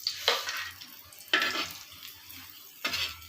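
Paratha frying in a little oil in a pan, heard as three separate bursts of crackling sizzle and scraping, each rising sharply and fading over about a second, with quiet gaps between.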